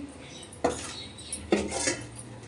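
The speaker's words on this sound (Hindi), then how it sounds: "बर्तन साफ करने हैं" Metal cutlery and dishes clink and clatter as they are gathered for washing, with two sharp close clanks among softer rattles in a quiet home kitchen.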